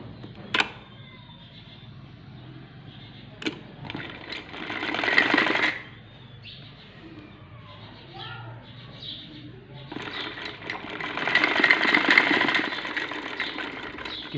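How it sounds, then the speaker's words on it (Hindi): A sewing machine stitches cloth for a homemade foam cover, whirring in two steady bursts separated by a pause, with a voice talking in between and a few clicks nearby. "ये इसके बराबर में सिलाई करेंगे।"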